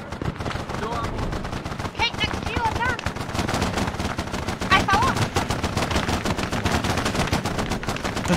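Heavy machine gun fire from a .50 cal in an Arma 3 Vietnam battle, dense rapid bursts that run continuously and loud, with other gunfire and voices mixed in.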